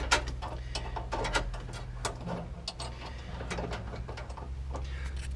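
A banjo bolt on a car's hydraulic parking brake is tightened, a close series of quick ratcheting clicks and metallic ticks over a low steady hum, with no talk.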